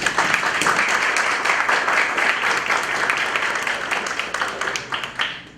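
Audience at a tourism week event gives a warm round of applause welcoming a congresswoman as speaker, close, lively clapping with distinct individual claps, steady then tapering near the end.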